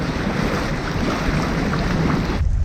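A sailboat running down a river into a headwind under jib, with steady loud wind roar buffeting the microphone and rushing water along the hull, continuous and close, cutting off abruptly at the end.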